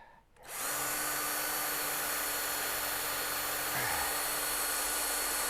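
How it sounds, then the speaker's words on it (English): A power drill with a 5mm bit drills out holes on an Abarth 500 suspension job. The motor starts abruptly and holds a steady, loud, close whine, with a brief dip in pitch near the end as it bites. "Now all I'm going to do is drill these out and retap them."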